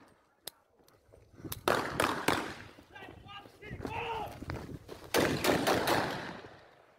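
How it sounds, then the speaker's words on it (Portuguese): Heavy-caliber gunfire on a public street, with several sharp, loud reports spread across a noisy outdoor scene and people shouting and talking throughout. "outro integrante do bando utiliza arma de grosso calibre e atira em via pública"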